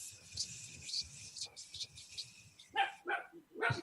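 A dog barks several times in short, sharp bursts near the end, loud and close, after a stretch of people talking and laughing around a tabletop game session.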